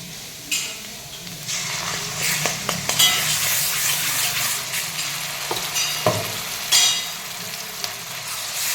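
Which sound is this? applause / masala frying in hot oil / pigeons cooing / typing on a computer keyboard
masala frying in hot oil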